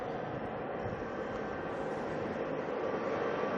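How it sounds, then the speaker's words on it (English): GE90 jet engines on a departing Qatar airliner roar at a distance, a broad, steady rumbling jet noise filling the whole stretch at moderate level with no talk. "We got to listen to the GE90s go crazy"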